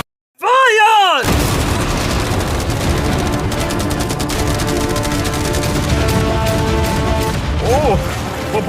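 A massive simultaneous barrage of cannons, guns and fireworks at a challenge event unleashes a loud, sustained roar of rapid overlapping blasts and crackles. A brief whooshing launch sound comes at the start, and a shout rises near the end.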